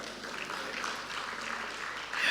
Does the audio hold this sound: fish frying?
no